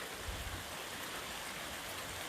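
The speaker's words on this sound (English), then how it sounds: "can you hear the rain?" Steady rain falling around a hiker's trail shelter on the Appalachian Trail, a soft, even hiss of drops with no voices.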